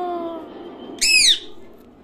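A pet parrot gives a single brief, loud, shrill squawk with a rising-falling harmonic sweep, following a faint whistle-like tone.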